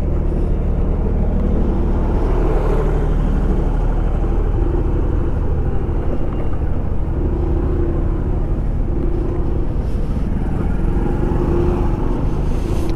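Vehicles sit idling in a complete traffic jam at a road-works site on a Mumbai to Lucknow route, a steady low engine rumble filling the scene continuously with no clear voices.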